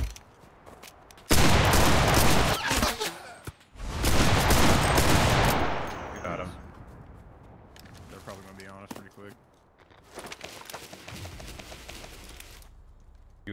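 Enemy gunfire in the video game Cuisine Royale comes in two long, loud, dense bursts of rapid automatic fire, followed by quieter later volleys, with a player talking in between.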